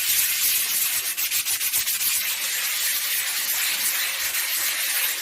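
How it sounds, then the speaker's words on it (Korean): Two sheets of fine sandpaper are rubbed against each other to dull their grit, a loud, close, continuous scratchy hiss of back-and-forth strokes with no voices. "사포끼리 조금 문질러서 날을 죽인 다음에 사용하시라고 알려드렸어요."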